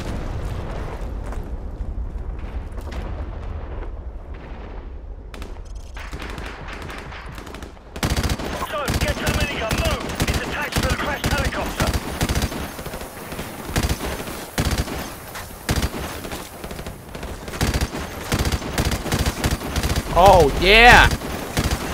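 Heavy shootout gunfire in Call of Duty 4 Remastered, rapid automatic bursts and single loud shots crowding the scene after a quieter start, with a man briefly exclaiming over the action.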